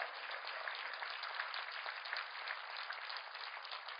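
A church congregation applauds. The clapping is dense and sustained, sounding distant and fairly faint, and no one speaks over it.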